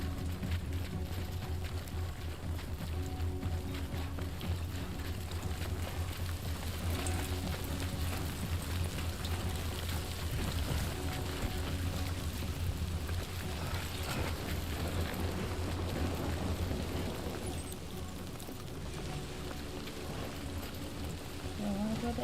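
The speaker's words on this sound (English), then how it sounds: "Great, rain. Gotta move." Steady rain hisses continuously throughout, with a low rumbling drone underneath and no voices.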